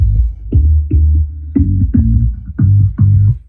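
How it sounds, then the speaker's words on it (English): A pulsing low synth loop run through a frequency shifter set to an infinite downward spiral repeats in short, evenly spaced throbs, each note smeared and bending downward with a warped, shifting character. "the air frequency shifter, and I put it on the infinite downward spiral"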